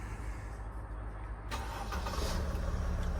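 A 2019 Mercedes-Benz Sprinter 319 with a 3.0 diesel engine starts up, cranking into a steady low idle rumble that grows slightly fuller after catching, heard close from inside the cabin.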